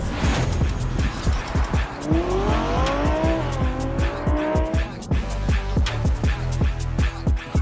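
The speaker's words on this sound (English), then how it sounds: "It's when cars drive recklessly on highways, causing near misses or weaving through lanes" Cars race hard along a New York highway, weaving through lanes, with loud, close engine roar, rising revs and squealing tires over a constant rush of traffic.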